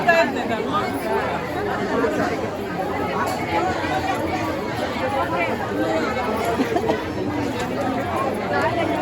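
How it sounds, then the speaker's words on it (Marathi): Dense crowd chatter near a temple in Mumbai, a steady babble of many voices close by with no single speaker standing out, continuous throughout. "मुंबईच्या मंदिराजवळ बघा किती गर्दी."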